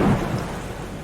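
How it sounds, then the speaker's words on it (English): Heavy storm with strong wind and destructive rain, a dense steady roar with a low rumble of thunder at the start, loud and continuous without voices. "Some very strong winds and quite destructive rains that can go on for quite a long time"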